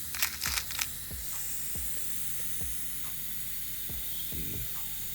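Rivets being set by hand in a car engine bay during a shaved-bay build, a series of sharp close clicks spaced roughly every second over a steady hiss, with a brief louder burst of noise at the start.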